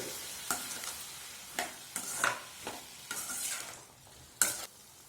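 Beetroot fry with salt and turmeric stirred in a pan, with repeated scraping strokes of a spoon over a soft background sizzle, irregular and fairly close.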